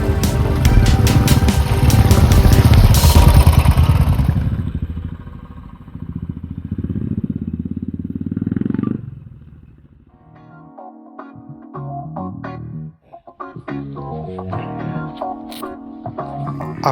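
Adventure motorcycles ride through a muddy stretch of forest road near Namdapha National Park, Arunachal Pradesh, with a loud close engine revving that fades, then quieter, intermittent engine sounds and clatter from further away.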